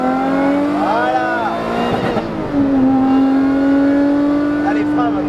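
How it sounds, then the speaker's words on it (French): A car engine revs steadily at high pitch on a race track, rising as it accelerates, with a brief dip midway; a voice talks over the engine. "Allez, vas-y, tu peux accélérer. Fais chanter là."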